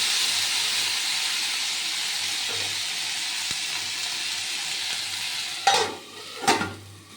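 Potatoes fry in a pan in a home kitchen, a steady close hiss of oil that runs throughout, broken near the end by two louder scraping stirs.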